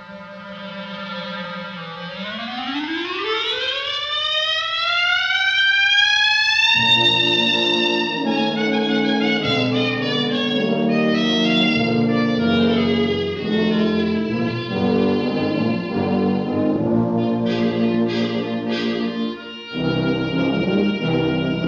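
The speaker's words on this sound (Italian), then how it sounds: "Sentiamo come si riesce a farlo in questo inizio della Rapsodia in blu di Gershwin." A clarinet plays the opening of Gershwin's Rhapsody in Blue: a low trill sweeps up in a long rising glissando to a bright held high note, then flowing melodic phrases follow over accompaniment, close and alone with no talking.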